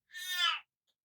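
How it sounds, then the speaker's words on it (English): A cat gives a single short, clear meow, rising and falling within half a second, close and alone against silence. "that's a cat"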